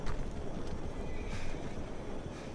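A horse in the Red Dead video game whinnies loudly at the start, then hooves clip-clop under a dense, noisy background.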